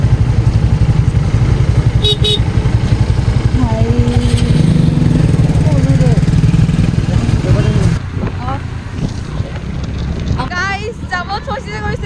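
Several motorbikes idle and rev close by in a nighttime traffic jam on the way to the Jonbeel Mela, a steady low engine rumble with voices and horns around, easing off partway through.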